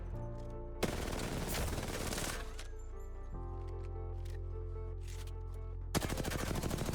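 Automatic gunfire from controller recoil-control practice in the video game Apex Legends: loud, sustained rapid-fire bursts that stop briefly, then start up again near the end, over a steady game hum.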